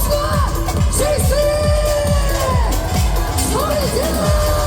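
Outdoor political rally crowd in Korea shouting and cheering: loud, dense roar of massed voices with rising whoops and yells over a constant rumble of crowd noise throughout.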